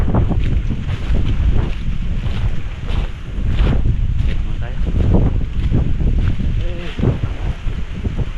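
Strong wind buffets a boat, gusting loudly against the microphone with rushing water and engine rumble underneath.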